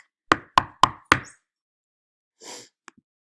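Four sharp knocks on a door in quick, even succession, close and loud, followed by a pause and a brief softer rustle with a couple of faint taps.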